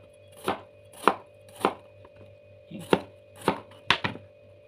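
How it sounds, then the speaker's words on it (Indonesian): Knife chopping bitter melon on a cutting board, seven or eight crisp, evenly spaced cuts at a steady rhythm, close and clear over a low constant hum, with no talking. "Kita potong dulu parenya."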